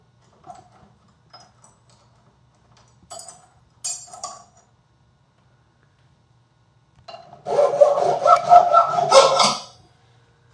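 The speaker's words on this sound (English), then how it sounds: "And filing across that way, and it took off some metal." A chainsaw chain sharpened by hand with a file, its edge held against a holder: a few light scraping strokes, then a close, loud burst of rasping file strokes over a couple of seconds.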